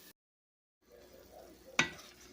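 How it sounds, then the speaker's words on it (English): Onions cooking down in a roux while a skillet is deglazed, a soft sizzle with low stirring noise after a brief silence, then one sharp scrape or clink of a utensil against the pan. "Okay, so I'm cooking down the roux with the onions. I'm deglazing the bottom of the skillet,"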